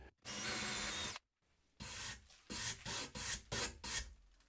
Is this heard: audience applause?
no